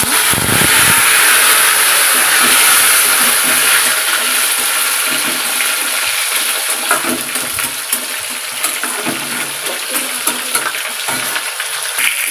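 Drumstick pieces fry in a tempering of mustard seeds, cumin, urad dal, fenugreek, dried red chillies and curry leaves, giving a loud, continuous close sizzle that holds steady throughout.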